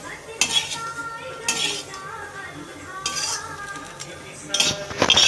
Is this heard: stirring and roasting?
yes